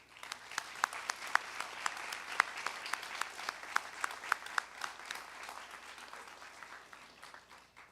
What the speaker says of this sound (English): Please join me in a round of applause for the class of 2025